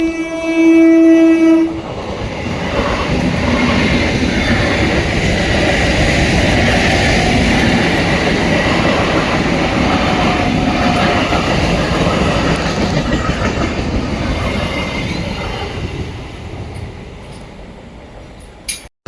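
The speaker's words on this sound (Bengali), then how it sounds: "একদম ট্রেন আসছে" A train thunders past a closed level crossing, its horn blaring briefly at the start before a long, loud rumble and clatter of wagons that slowly fades away.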